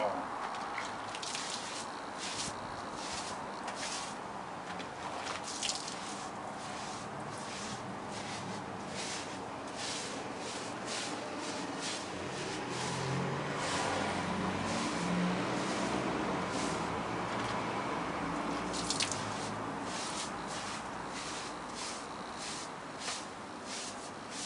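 Shower water runs steadily over a dog named Pablo during a bath, a continuous hiss with soft splashing and rubbing, while a person talks intermittently over it.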